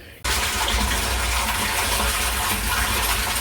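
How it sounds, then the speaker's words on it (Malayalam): Water from a pump-fed pipe gushing into a white storage tank after cleaning, a steady, loud, broadband rush that begins abruptly and continues unbroken with no talking. "ഇപ്പോൾ വൈറ്റ് ടാങ്ക് നിറഞ്ഞുകൊണ്ടിരിക്കുകയാണ്"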